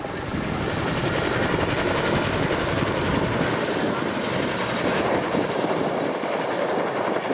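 An RAF Chinook helicopter displaying at RAF Cosford Airshow 2019 gives off a loud, steady, rapid rotor blade slap, a continuous rhythmic thudding roar held close without a break.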